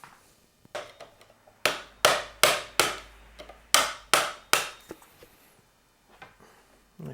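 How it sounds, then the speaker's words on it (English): A hammer taps a screwdriver to loosen a steering head part on a Yamaha Tenere 700 motorcycle, giving a series of sharp metallic knocks in uneven bursts of two to four, fairly close, with short pauses between. "And I'm just going to loosen it off with the hammer."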